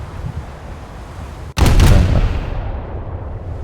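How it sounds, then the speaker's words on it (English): Warship guns firing in a naval battle video game, with the 6-inch secondary battery of the ship Ikoma in action: one sudden loud boom breaks a steady rumble of background noise, then rolls on as a sustained roar that slowly fades. "Oh, somebody's shooting at me."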